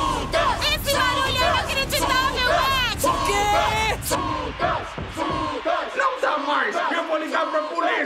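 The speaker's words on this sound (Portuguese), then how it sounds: "O Shake quer que a torcida faça ainda mais barulho." Loud cartoon football stadium crowd cheering, roaring and yelling continuously, with dense layered shouts and whoops that thin slightly toward the end.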